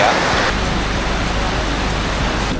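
A strong, deep river current rushes in a continuous broadband roar, loud and close, with no pauses and no talking.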